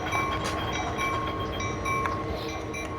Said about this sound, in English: when the handbrake says it's released but it's not fully released, it'll just make that sound. Because it's just clanging on the wheel